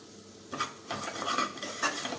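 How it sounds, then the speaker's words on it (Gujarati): Crushed peanuts and cashews being stirred into potato sabudana khichdi in a pressure cooker: a few soft, quiet scraping and rustling spoon strokes over a faint background, no speech. "અને બટેટા સાથે આ બધું મિક્સ કરી લઈએ"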